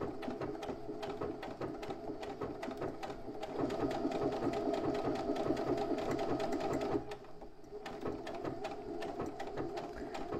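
A sewing machine runs a zigzag stitch along a triangular bag flap, a steady close mechanical whir that slows and quiets for a moment before carrying on at a gentler pace.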